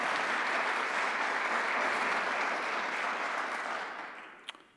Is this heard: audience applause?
yes